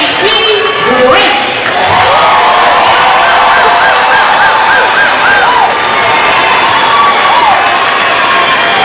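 A large commencement crowd cheers and applauds with sustained clapping and scattered whoops and shouts, loud and close throughout.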